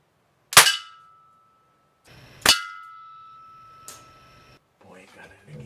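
Air rifle pellets from a Daisy 880 or Ruger Air Hawk Elite II strike a metal target, sharp metallic pings with a ringing tail, two strong hits and a fainter third, then brief quiet talk.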